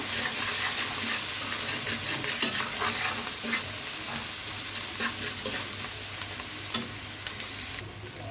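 Spices with coriander frying in a pan with a steady sizzle and repeated scraping stirs of a utensil, close and continuous throughout, with no talking.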